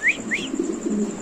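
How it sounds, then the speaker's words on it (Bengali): A pair of white fantail pigeons gives soft, low cooing close by, preceded by a couple of quick higher chirps, all over a faint steady background hum. "এখানে দেখাবো একজোড়া লক্ষা কবুতর কতটা সুস্থ শরীরে হবে"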